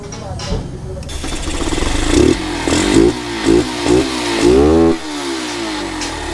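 A Yamaha SZ motorcycle engine, freshly tuned up, revs hard several times in quick bursts, rising and falling in pitch over a steady idle, loud and close.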